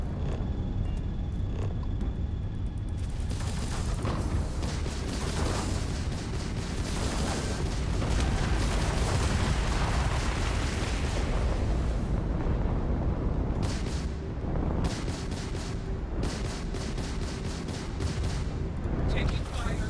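Gunfire crackles through combat in a Starfield exam arena, dense bursts of shots and booming blasts layered continuously over a loud, busy battle mix with a voice talking over it.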